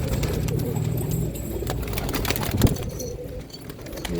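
A Tiger-line pigeon coos in low, repeated throaty phrases, close and fairly loud over steady background noise, with faint voices and other birds around it.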